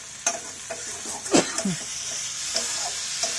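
Pointed gourd and shrimp frying in oil, a continuous bright sizzle with sharp spatula scrapes and stirs scattered throughout, close up with no talk.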